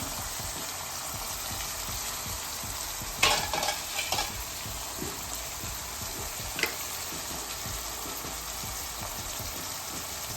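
Garlic paste sizzles in a hot pan while cooking Rajasthani dal kadubu, a steady frying hiss with a few louder scraping stirs near the middle, nearby and alone without talk.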